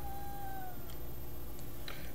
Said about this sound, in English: This cat's been aggravating me for a while.